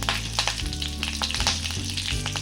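Mustard seeds and curry leaves crackle and sizzle steadily in hot oil for a tempering, a loud, close, continuous frying hiss with sharp pops throughout.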